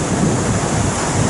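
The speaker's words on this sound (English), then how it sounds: "There are some breaking waves over the bank, the bar on this side of the river" Steady, dense roar of waves breaking over a river-mouth sandbar on a Spanish ria at low tide, in a northerly wind, continuous and fairly loud with wind buffeting throughout and no voices.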